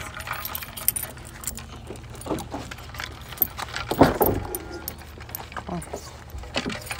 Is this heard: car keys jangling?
yes